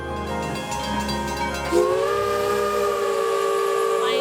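A steam locomotive whistle sounds on a Christmas train, a long sustained chord that rises slightly as it starts and holds steady over the rumble of the train.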